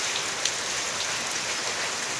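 Heavy rain pours steadily onto a surface outdoors, a dense, even hiss with scattered drop impacts, close and continuous with no voices.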